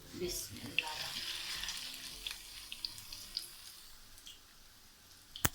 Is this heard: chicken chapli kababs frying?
yes